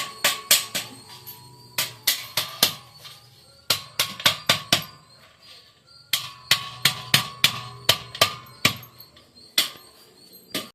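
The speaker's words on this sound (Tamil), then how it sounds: "இந்த மாதிரி எல்லாம் நசுக்கி எடுத்துக்கணுமாங்க" Sharp repeated pounding knocks in quick clusters, close and loud, as garlic cloves are crushed, with brief pauses between bursts.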